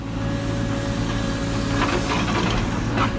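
A Hidromek Alpha backhoe loader at work, with a steady, loud diesel drone and strong low hum throughout, joined by some metallic clanking and rattling from the machinery.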